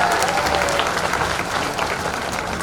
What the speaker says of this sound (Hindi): जोरदार तालियों से सम्मानीय मंत्री जी का स्वागत करें।